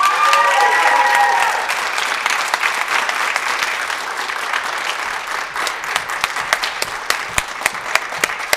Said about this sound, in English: Let's keep clapping for Austin.